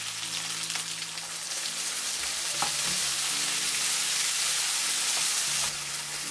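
Dried chilies and Sichuan peppercorns sizzle loudly while stir-frying for Kung Pao chicken, a dense crackling hiss from the hot pan with a few scraping stirs of the spatula, close up and unbroken.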